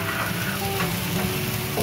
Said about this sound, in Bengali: ধনে গুঁড়ো, জিরে গুঁড়ো, হলুদ গুঁড়ো দিয়ে বেশ খানিকক্ষণ এটা আমি নাড়াতে থাকব।